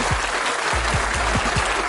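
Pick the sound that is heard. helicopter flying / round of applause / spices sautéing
round of applause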